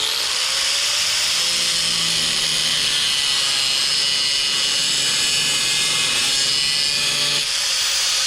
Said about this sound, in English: So we're going to start it with the cutter disc.